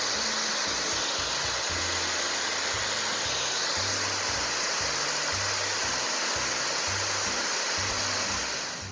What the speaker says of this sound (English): Here goes the waterfall.